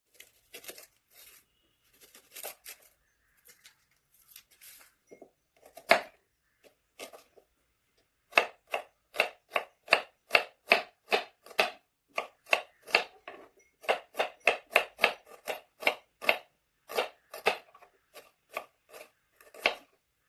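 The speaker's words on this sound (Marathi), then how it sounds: "चला आता आपण कांदा चिरून घेऊया" A knife chops onion on a board, sparse scattered cuts at first, then a fast run of sharp, regular strokes close by, with no one speaking.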